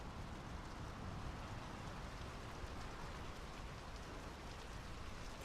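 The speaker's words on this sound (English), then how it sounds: "The rain's picking up." Steady, dense rain falls in the video game Draugen, a constant broadband hiss of downpour with no breaks, thunder or voices.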